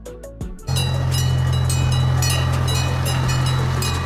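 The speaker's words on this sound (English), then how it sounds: "Zoo train, a small train used in zoos, parks, or tourist areas." A small zoo train used in parks and tourist areas starts after a brief clatter, then runs with a steady droning hum and rhythmic rail clacks, close and continuous.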